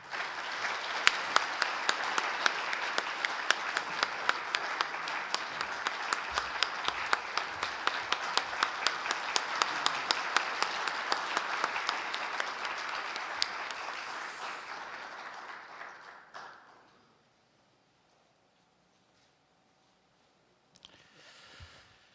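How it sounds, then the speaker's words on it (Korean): A large crowd at a presidential candidate's morning lecture event in Incheon claps steadily and loudly for about fifteen seconds, then the applause fades out into near silence. "여러분 환영과 격려의 박수 부탁드립니다"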